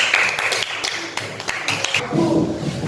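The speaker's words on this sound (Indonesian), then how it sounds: "Beri tepuk tangan untuk kelompok herbivora." Schoolchildren in a classroom clapping for a group that presented on herbivores, a short burst of brisk, uneven clapping near the microphone, with light taps and thuds, that tapers off toward the end.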